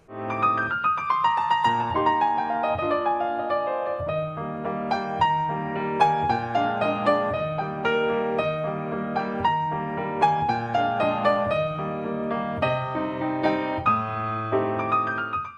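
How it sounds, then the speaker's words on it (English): Solo piano plays a flowing piece with rolling chords and a clear melody, sustained and fairly loud throughout, no voices. "I compose my own piano music, some of which sounds like this."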